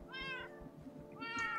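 A cat in the Minecraft video game meows twice, short tonal calls at the start and end, clear and alone over a quiet background.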